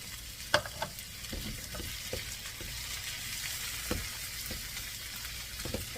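Sweet Arkansas cherry tomatoes and beans fry in a pan with a steady sizzling hiss, broken by scattered taps and scrapes of stirring, close and moderately quiet with no talking.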